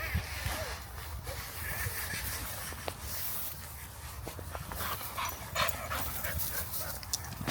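Dogs panting close by during an outdoor walk, with rhythmic breathy huffs and occasional faint whimpers over steady background noise.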